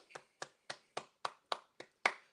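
Eight crisp hand claps ring out at an even, moderate pace, close by with quiet gaps between, the last one slightly louder.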